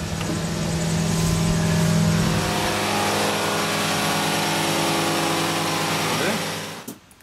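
Boat engine revving up to 2,800 rpm, a loud steady droning roar holding constant for several seconds before dropping off sharply at the end.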